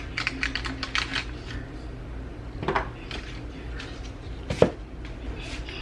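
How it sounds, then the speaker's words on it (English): Knife cutting butter on a board beside a heating pan in a home kitchen, with light tapping knocks and a sharp clack, close and moderately loud, no talk. "I'm just gonna cut some butter."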